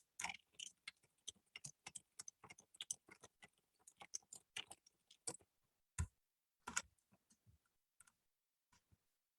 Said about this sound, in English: Did you hear my keyboard? A little bit. I heard little tip taps.